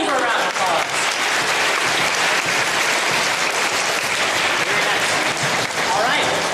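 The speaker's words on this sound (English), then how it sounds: "Give her a round of applause." A school audience applauds after a fast-tempo tap dance performance, a loud, dense wash of clapping that stays steady throughout, with crowd voices mixed in.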